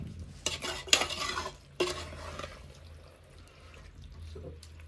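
Chicken biryani masala stirred in a metal pot with a spoon, a few scraping strokes and clanks against the pot, close and fairly loud, then fading to a quieter low rumble.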